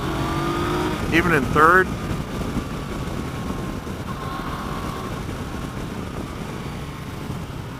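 A 2015 Yamaha FJ-09 motorcycle engine growls steadily while riding in third gear, with someone talking briefly over it near the start and wind rush throughout.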